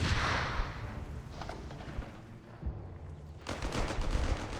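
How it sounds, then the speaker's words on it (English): Grenade launcher firing in Company of Heroes 3, a desert battle between Afrika Korps and US forces, with a muffled launch thump amid dense gunfire and explosion rumble, loud and sustained throughout. "1st grenade launcher shot goes off in an absolutely amazing parabolic arc"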